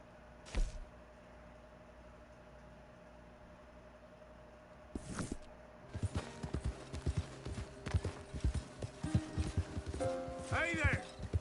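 A horse's hooves clip-clop in Red Dead Redemption 2, starting after a few isolated knocks and then walking steadily and close. The horse whinnies briefly near the end over faint game ambience.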